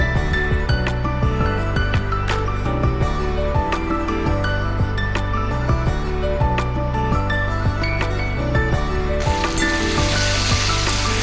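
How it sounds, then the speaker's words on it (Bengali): Potato pieces fry in a pan with a steady, loud sizzle and crackle. Toward the end, water poured in raises a sudden, brighter hiss. "দেখো ভাজা প্রায় হয়েই গেছে এখন একটু জল দিয়ে আলুটাকে সেদ্ধ করে নেব"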